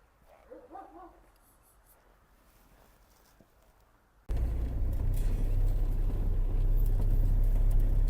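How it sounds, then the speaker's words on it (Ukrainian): A 1995 Mercedes 814 dump truck drives along a street. After a quiet stretch with a faint distant dog bark, a loud, close diesel engine roar suddenly starts and continues steadily to the end. "Їду, трошки проїдуся по вулиці"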